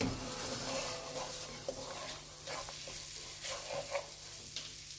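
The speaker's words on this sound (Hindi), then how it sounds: "अब सूजी को भूनेंगे।" Semolina roasting in ghee in a pan on a medium stove for halwa, giving a steady soft sizzle with occasional stirring scrapes, close and fairly quiet, with no talking.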